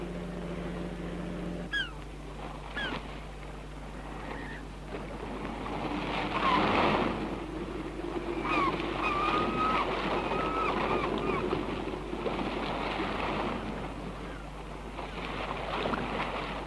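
A racing schooner sailing up to a race starting line around an island, with steady water wash and wind rushing past the hull, a few faint creaks and distant calls over the open water.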